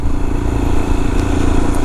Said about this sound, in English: Even the engine on the motorcycle is asking to be notched down.